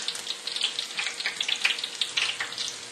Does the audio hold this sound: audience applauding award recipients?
no